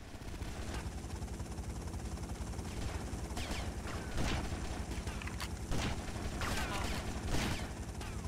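Enemy gunfire in GTA Vice City during a rescue mission: rapid, rattling bursts of shots fired in quick succession, with several sharper louder cracks standing out over a continuous busy background of game noise.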